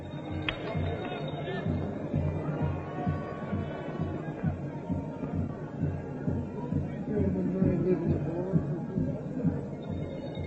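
Dense crowd chatter fills the stands at the 1962 Grey Cup football game, a continuous close murmur of many overlapping voices with no single voice standing out.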